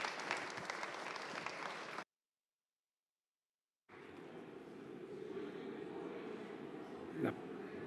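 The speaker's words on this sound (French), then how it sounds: "Je vous propose de l'applaudir." Conference audience applauding a speaker from the Swiss Federal Office of Energy, a steady broadband patter of clapping in a hall, cut by a gap of silence and then resuming evenly.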